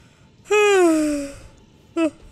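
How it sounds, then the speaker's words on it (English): A person gives one long, drawn-out yawn with a falling voiced tone, then a short vocal sound follows after a pause; close and fairly loud over a quiet background. "I don't know why I'm yawning"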